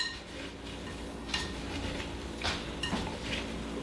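A utensil stirs squash, Brussels sprouts, smoked sausage and cranberries in a bowl, giving repeated scraping clinks against the bowl in an irregular rhythm, close and moderately loud with no talking.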